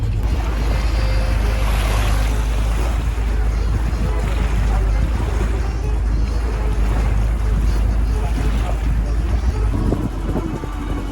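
A boat cruises on the Nile river in Egypt, giving a constant, loud blend of engine rumble, rushing wind and splashing water wash, with muffled voices faintly under the noise.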